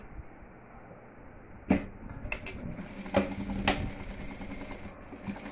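Sewing machine stitching a seam on a pouch made from a milk carton, with short bursts of needle clatter separated by pauses and brief handling clicks, close and fairly quiet.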